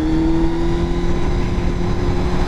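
A Triumph Daytona 600 sport motorcycle engine heard while riding, a steady droning hum with constant wind-like rumble, no distinct revving, continuous and fairly loud throughout.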